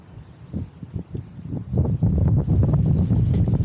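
Gusty wind buffets the microphone with low rumbling blasts that grow stronger and more constant partway through.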